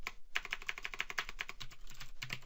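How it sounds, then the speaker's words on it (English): Keys clatter in a quick, steady run on a computer keyboard as a build command is typed at a command prompt, close and fairly quiet, with a slightly heavier press near the end. "let's type in MSBuild"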